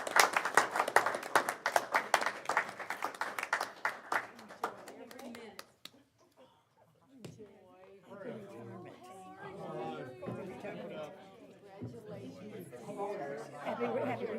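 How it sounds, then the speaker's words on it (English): Applause for retiring school staff fills a school board meeting, dense clapping for several seconds that fades to quiet, followed by people chatting and talking nearby. "Let's please give this group a big round of applause"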